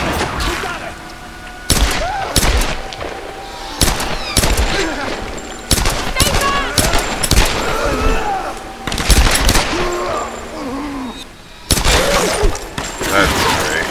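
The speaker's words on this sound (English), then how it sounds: "Who's shooting at me?" Gunfire in Tomb Raider comes as repeated loud bursts and single shots from enemies, spread across the whole stretch with brief pauses between volleys, while someone talks throughout.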